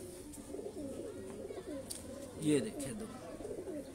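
Pigeons coo softly in low, rolling murmurs in the background, with one brief louder coo near the middle, while someone speaks over them.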